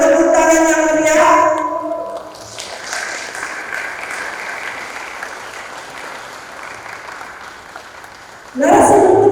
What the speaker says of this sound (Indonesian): Kepada beliau kita sambut dengan tepuk tangan yang meriah.